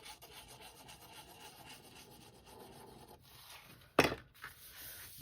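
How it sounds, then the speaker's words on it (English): Paper is burnished with a bone folder in a steady, soft, quiet rubbing, followed by a sharper scrape and a thump near the end. "Bone fold. Burnish, burnish, burnish."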